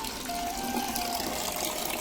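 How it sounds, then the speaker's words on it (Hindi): Tap water gushes steadily into a container in a village home, a continuous rushing stream with a faint, rising tone as it fills. "चलो पानी चालू हो गया संगवारी हो।"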